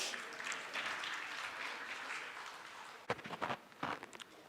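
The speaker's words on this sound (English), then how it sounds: "Let's give it up, a big hand of applause." Audience applause at a Doctor's Day honours event. Faint, steady clapping fills the first three seconds, then sharper, nearer claps follow in uneven bursts to the end.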